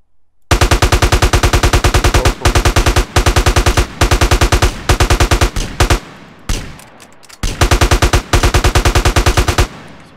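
Loud, rapid automatic gunfire in the MTA:SA multiplayer game fires in long sustained bursts with brief gaps, with a short break of scuffling noise before the shooting resumes.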